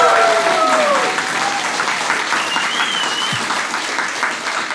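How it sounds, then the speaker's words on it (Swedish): A comedy club audience gives a warm round of applause as a comedian is introduced, loud clapping that starts strong and settles into a steady roar, with some voices and whoops mixed in. "Ge en stor varm applåd för Simon Gärdenfors!"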